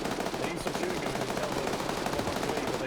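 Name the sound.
gunfire in a PvP video game match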